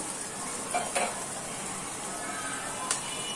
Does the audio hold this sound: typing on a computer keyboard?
no